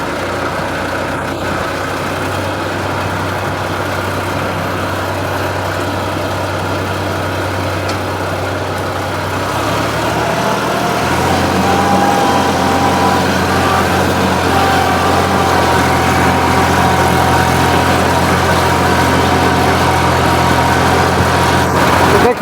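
A tractor stuck in a wet, waterlogged field runs with a continuous low diesel rumble close by, and the engine note steps down and then rises again as it strains.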